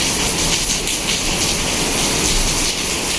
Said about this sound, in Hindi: ये देखो बारिश, और बारिश की भी आवाज़ आ रही होगी आपको